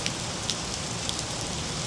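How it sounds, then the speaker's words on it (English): Heavy rain falls outside, a steady close hiss of drops with a few sharper taps on top, no voices. "The rain is even harder now."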